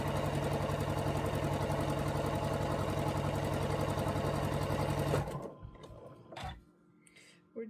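A sewing machine stitches in a fast, steady run, whirring loud and close for about five seconds before stopping abruptly, leaving a few faint handling clicks and thumps.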